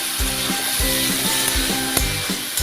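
Prawns fry in a masala for a Bengali prawn dish. A spatula scrapes through the pan in a steady back-and-forth rhythm over a constant loud sizzle, close up with no talking.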